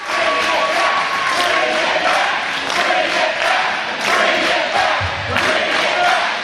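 Loud, steady roar of a wrestling crowd at an independent IWC show, sustained cheering and shouting filling the whole stretch with a few swells, with no clear single voice standing out.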